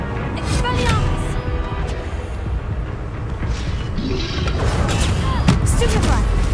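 An Expelliarmus spell cast during combat in the video game Hogwarts Legacy, a whooshing magical burst with sharp impacts amid a continuous dense battle soundscape, loud and busy throughout.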